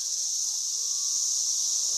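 Cicadas swarming Bradford pear trees in a neighborhood produce a steady, dense high buzz that holds unbroken throughout, with faint low thumps underneath.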